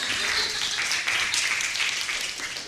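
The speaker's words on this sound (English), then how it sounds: "Another round of applause." Brief, moderately loud round of audience clapping at a live rock show, dense and even before tapering slightly at the end.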